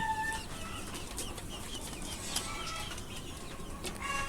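Desi chickens about 65 days old cluck softly while being weighed on a farm, the faint calls scattered over a low background hum.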